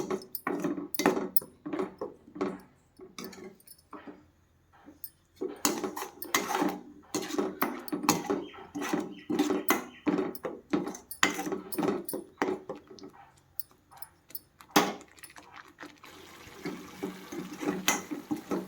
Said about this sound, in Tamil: சேர்த்து நல்லா கிண்டி விடுங்க